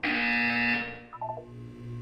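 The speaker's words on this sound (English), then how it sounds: "You will hear a buzzer. When you hear the buzzer, look up at the ceiling." Portal 2 video game buzzer: a loud, steady harmonic electronic drone for most of a second, then a short stuttering pulse train and a lower sustained hum as it fades.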